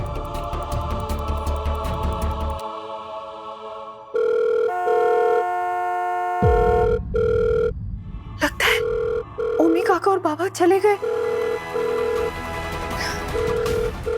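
A telephone rings repeatedly in steady bursts and goes unanswered, while someone speaks briefly over it and music plays underneath.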